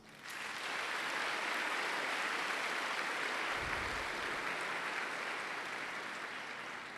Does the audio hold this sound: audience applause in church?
yes